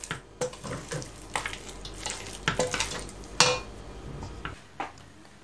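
A spoon stirs thick choux pastry dough for profiteroles in a pot, giving irregular scraping and thick wet knocks against the metal, with nobody speaking.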